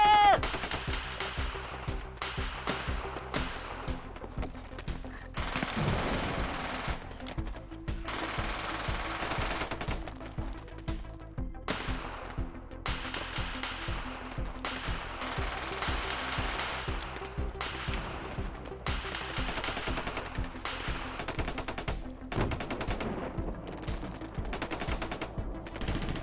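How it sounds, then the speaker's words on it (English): Heavy sustained automatic gunfire from an action movie battle scene, loud, dense bursts of machine-gun fire rattling almost without pause, with brief shifts in intensity and a faint voice or two buried under the shooting. "We're under heavy fire!"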